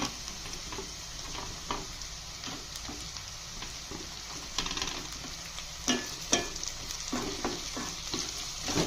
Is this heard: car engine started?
no